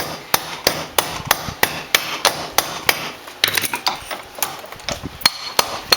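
A small hammer taps out wrinkles from the inside of a metal finger gauntlet in a steady, quick rhythm of sharp, ringing strikes, close and fairly loud, with no voices.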